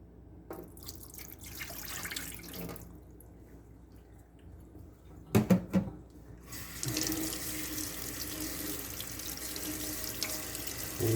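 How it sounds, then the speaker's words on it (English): A Keurig 2.0 coffee machine's water filter is rinsed under a running kitchen tap, water splashing and gurgling in a sink with a few louder bursts and drips, close and unaccompanied by talk. "now what I need to do is rinse it for 15 seconds and replace it"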